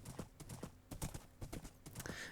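Horse hooves clip-clopping in the Minecraft video game, a quick run of sharp irregular hoof clops close by, loud and uneven, with no talking.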